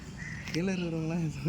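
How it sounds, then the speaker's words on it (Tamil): A crow caws once, a harsh drawn-out call rising above steady outdoor background noise. "காக்கா"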